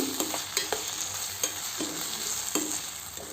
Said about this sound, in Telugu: సో అది యాడ్ చేసి కాసేపు దీన్ని ఇలా కలుపుకుందాం